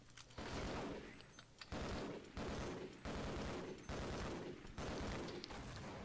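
Machine gun fire in Half-Life: Uplink, repeated loud bursts of rapid automatic shots separated by brief pauses, fairly close and without talk.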